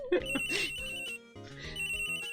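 A cell phone ringtone in the Ace Attorney video game plays as a bright, repeating electronic melody in two short phrases, clear and close with no voices over it.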